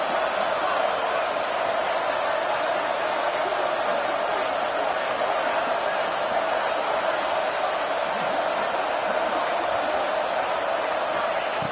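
A college football video game stadium crowd at Oregon hosting Georgia sends up a loud, steady, unbroken roar that fills the whole clip with no clear pauses.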